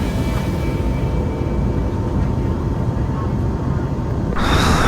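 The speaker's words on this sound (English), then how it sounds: "So then airborne from London Heathrow on board JetBlue." Steady broadband cabin roar inside a JetBlue airliner cruising at altitude on a transatlantic flight out of London Heathrow, a constant low rumble and hiss throughout that grows brighter and louder near the end.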